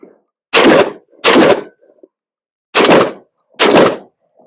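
A Mossberg 940 Pro Tac shotgun fires four loud, sharp shots close by, in two quick pairs separated by a short pause, with no talking.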